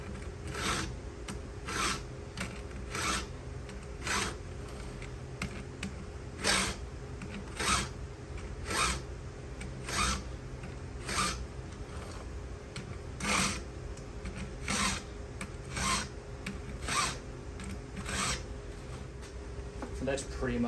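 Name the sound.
hand filing a chainsaw chain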